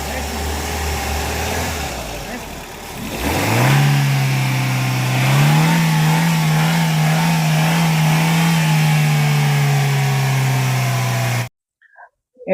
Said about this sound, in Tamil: ரைஸ் பண்ண சொல்லுங்கள்